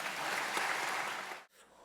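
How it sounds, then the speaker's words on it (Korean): Hall-wide applause at a university graduation ceremony welcomes the president to the stage, a dense, steady clapping that continues for about a second and a half, then drops away sharply into quiet. "뜨거운 박수로 맞이해 주시기 바랍니다."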